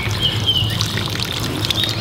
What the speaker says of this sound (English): then give it a nice watering